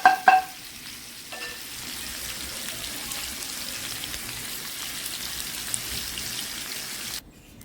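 Quail pieces fry separately in a pan over a low flame, giving a soft, even sizzle after a couple of brief clattering knocks at the start, then cutting off near the end.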